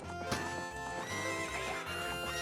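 Epona, the horse in Ocarina of Time, lets out a loud, bright whinny with game-music tones behind it, the neigh rising and wavering for a couple of seconds.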